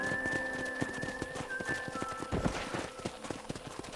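Rhythmic hoofbeats of a galloping horse in the video game Red Dead Redemption clatter steadily, with a faint sustained musical tone in the background.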